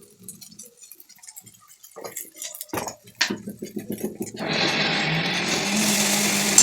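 A kitchen mixer grinder grinding fried spices whirs up loud and steady in the last seconds, after quieter clinks and taps of utensils and brief sounds of people moving and talking in a home kitchen.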